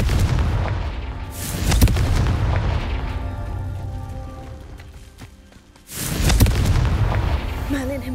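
The Confringo spell explodes in Hogwarts Legacy with a loud, booming blast. A second heavy burst comes a few seconds later, and brief voice sounds come between them.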